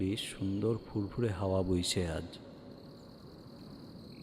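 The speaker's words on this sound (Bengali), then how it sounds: "ঝিঝি পোকার ডাক," A voice speaks briefly, then a faint, steady chirring of crickets at night carries on alone in the quiet.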